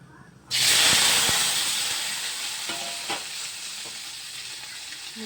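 Loud hissing sizzle starts abruptly as vegetables hit hot oil for a curry, then settles into a steady frying crackle with a few light knocks of stirring.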